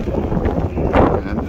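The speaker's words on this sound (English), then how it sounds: "the wind's picking up as well" Wind gusting across an exposed mountain ridge, a steady rushing buffet on the microphone that swells briefly louder midway.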